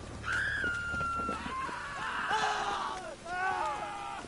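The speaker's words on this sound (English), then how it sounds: "Why are people screaming?" In The Witcher 3, people scream in a series of wavering, high-pitched cries, some overlapping, heard fairly faintly over a quiet background.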